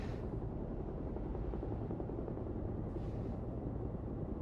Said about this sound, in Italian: Il capo che manda il suo elicottero privato a prendere un agente.